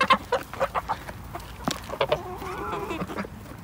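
A goose honks and clucks in short, loud bursts, then gives a longer wavering call, close by and with no talking.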